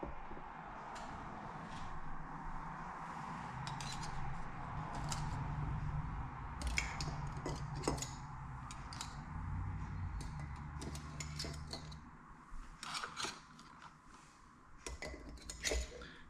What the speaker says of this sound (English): Now I'm only putting 3 eggs into each jar